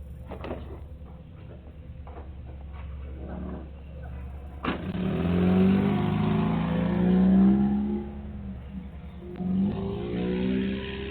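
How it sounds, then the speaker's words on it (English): A red car pulls up in front of a house, caught by a residential doorbell camera; a low engine rumble swells midway and holds steady, fairly close and loud, with no talking. "The video shows a red car pulling up in front of the residence."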